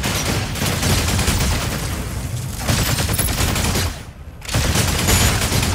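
Rapid weapon fire from a mech in the PvP video game Mecha BREAK, dense continuous bursts of shots with one brief pause near the end, loud and close.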